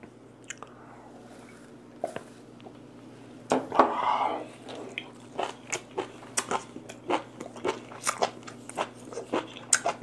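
Raw white beef tripe dipped in chojang sauce is chewed close to the mic, a run of wet, crunchy bites and squishy chews that grows steady and rhythmic after a few scattered clicks.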